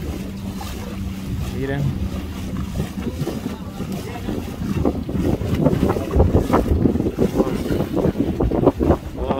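A motorboat runs on open water at Amapala, Honduras, with a steady engine drone and wind buffeting, while people talk over it.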